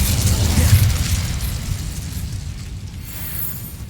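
The Incendio fire spell goes off in Hogwarts Legacy inside a decaying catacomb, a loud whooshing, roaring burst of flame that swells at first and then slowly dies away into a lingering rumble.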